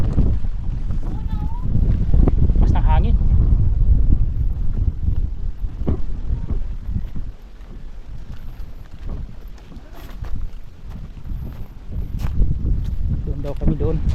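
Strong wind buffets a microphone outdoors at a sanctuary beach, loud gusty rumbling that eases and swells, while people talk throughout.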